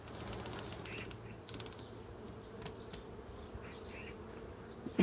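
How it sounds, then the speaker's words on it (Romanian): A honeybee colony swarming during hive work, a dense continuous buzz of many bees filling the air, with scattered close wingbeats flitting past and a sharp knock near the end. "Ce haos când roiește o familie de albine."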